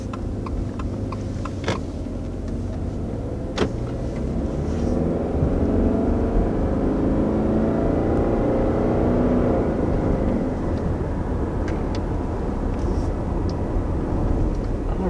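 A 2020 Subaru Outback with the base 2.5-liter four-cylinder engine pulls away on the road, with a steady, fairly loud engine and road rumble that swells as it gets going.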